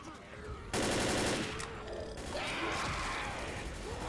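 A tank fires in a video game, a sudden loud blast followed by rumbling gunfire and mechanical clatter that trails off.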